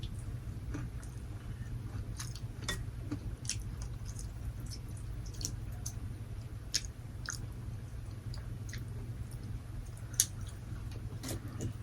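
Close, crunchy chewing of octopus and mushroom tempura with noodles, with sharp little crunches and bites scattered over a low steady hum.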